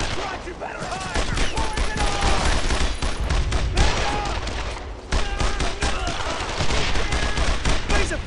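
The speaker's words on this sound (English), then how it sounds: "I need suppressing fire." A squad lays down suppressing gunfire in the WWII game Brothers in Arms on the road to Hill 30, with loud rapid rifle and machine-gun bursts running throughout while soldiers shout orders over the shooting.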